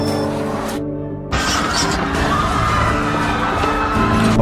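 Lego car in a Roblox game speeding down a ramp, with a loud engine roar and tire squeal after a brief sharp cut, rising in intensity toward the end.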